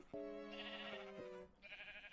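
A sheep in the video game Minecraft bleats, a clear wavering cry lasting about a second followed by a shorter second bleat, close and fairly quiet.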